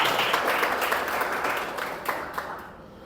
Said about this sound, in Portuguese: Dê um forte aplauso ao Senhor por isso.